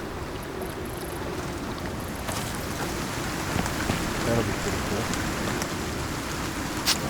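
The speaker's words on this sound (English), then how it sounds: "Now it's more rain." Steady rain falls in the survival game Icarus, a dense, even hiss that runs the whole time at moderate loudness, with a short line of speech over it.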